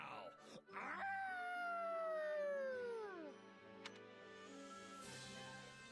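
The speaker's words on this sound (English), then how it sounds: "Wolf howl!" A wolf howl in the Fire Emblem video game: a single long, tonal wail that slides slowly downward, then fades against quiet game background sound.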